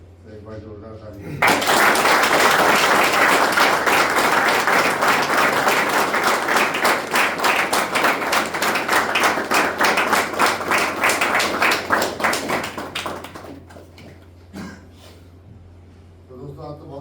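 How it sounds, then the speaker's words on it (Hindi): Loud, dense applause from a group at a rehab centre gathering in Dehradun, bursting in suddenly and holding for about ten seconds before fading, with talk just before and after. "एक बार जोरदार ताली।"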